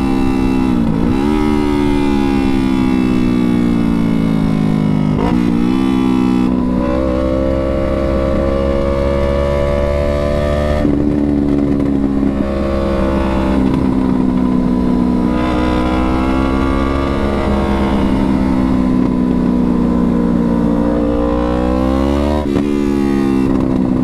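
A straight-piped Yamaha R3 motorcycle revs loudly and close by, its raw exhaust rising and falling in long sustained pulls with occasional sharp drops and pops between throttle sweeps.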